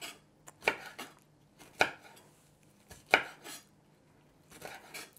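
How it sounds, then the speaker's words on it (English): Hot peppers for pico de gallo are chopped with a knife on a board, a handful of sharp, close thuds at uneven intervals with quiet gaps between them. "You just chop it."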